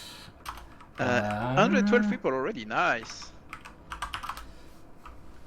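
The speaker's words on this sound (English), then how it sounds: "I can really hear your keyboard." Rapid computer keyboard typing clicks away faintly in the background during a Planetside 2 Outfit Wars match, partly under a person speaking briefly, then continues as scattered quick keystrokes.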